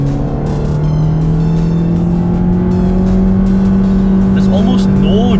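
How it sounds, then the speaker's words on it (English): A Toyota GR Yaris engine held at full throttle through a bend on the Sepang circuit gives a loud, steady, droning tone from inside the car, with a voice talking over the sustained pull. "I'm literally going full throttle through the bend now"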